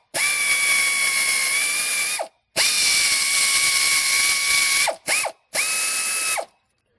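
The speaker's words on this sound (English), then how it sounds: "you put the auger in the hole and run it down" A Time-Sert auger is run down by a ratcheting tool into a head bolt hole on a Honda 3.5L engine, giving four steady mechanical runs of clicking, whirring turning, two long and two short, separated by brief pauses.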